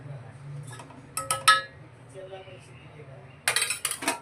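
A spoon clinks against a bowl while milk, sugar and ghee are mixed, a few sharp metallic taps in two short bursts over a faint background hum; close, with no talk.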